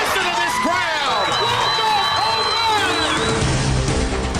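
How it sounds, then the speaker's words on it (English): Crowd at a high school baseball game, Cedartown Bulldogs at Northwest Whitfield Bruins, roaring and cheering after a home run to left field, loud and sustained throughout with scattered whistles and shouts rising above the din. "Listen to this crowd."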